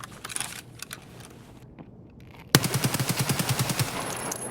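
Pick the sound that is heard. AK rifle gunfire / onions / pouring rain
AK rifle gunfire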